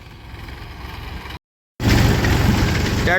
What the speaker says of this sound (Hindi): टीलर की आवाज़ सुनो जी, भरड़ भरड़ बोल रहा।